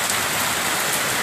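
Heavy rain pours down on a street in Laverna Hills, Davao City, a dense, loud, unbroken hiss of falling water with no voices.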